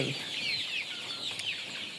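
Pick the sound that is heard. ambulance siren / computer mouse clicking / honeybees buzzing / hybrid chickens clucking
hybrid chickens clucking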